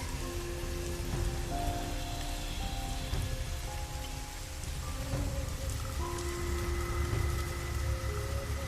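Heavy rain pours continuously at night in a dense forest, a steady hiss of drops drumming on surfaces close by, with no voices.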